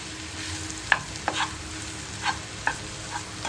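Chili powder and coriander powder being stirred and dry-roasted in a pan, with faint sizzling and a few distinct scraping or tapping strokes spaced out irregularly over a quiet hiss.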